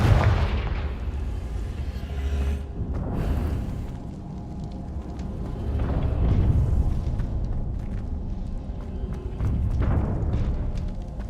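Confringo spell explosion effects in a magic game, several deep booming blasts a few seconds apart, each swelling and fading, moderately loud with rumbling tails.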